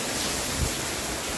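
Heavy rain pours over an overflowing roof gutter in Rio Grande do Sul, a dense, steady hiss of falling and spilling water, loud and close with no break.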